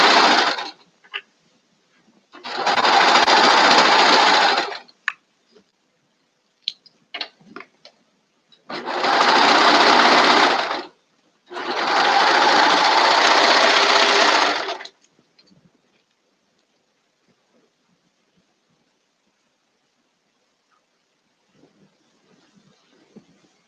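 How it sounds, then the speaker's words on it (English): A serger sewing machine runs in three separate bursts while stitching thick fabric pieces with layered middle seams, steady whirring with quiet pauses between runs. "That piece is really thick because it has all the middle seams in it."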